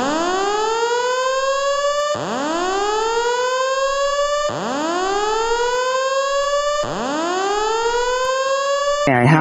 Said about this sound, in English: it's time to hear the sound. This is what it sounds like